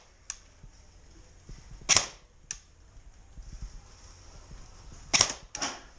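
An airsoft gun fires during an outdoor Christmas skirmish game, making a handful of sharp, snappy pops spread irregularly over several seconds. Two of the pops come as a quick pair near the end, over faint background rustle.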